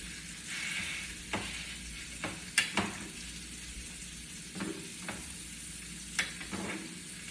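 A thick steak frying in a pan sizzles softly and steadily, with occasional light clicks and taps from a utensil scattered across the sizzle.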